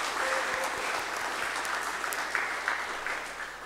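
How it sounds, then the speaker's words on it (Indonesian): A church congregation applauds newly installed lectors and acolytes at a Eucharist celebration, a steady, even wash of many clapping hands that sounds moderately distant and fills the whole stretch with a low hum underneath. "Tepuk tangan untuk mereka semua."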